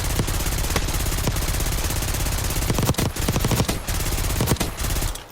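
The secret minigun in Call of Duty Black Ops 6 fires in a relentless, extremely rapid roaring stream of shots, loud and close, with brief gaps and stutters in the second half as bursts restart, and no voice over it.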